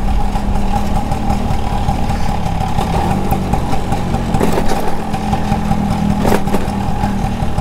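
A 1985 Bajaj Chetak scooter, left unused for a long time and making an odd noise, runs at a steady close idle with a constant buzzing hum and faint rattles.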